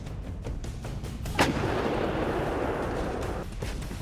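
An M-777 ultra-light howitzer fires once, a single sharp, loud blast that rolls out into a long, broad rumble fading slowly over several seconds.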